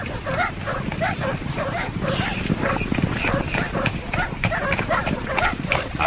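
Several dogs bark and yip continuously at a distance outdoors, layered over a dense, noisy background with a steady hiss.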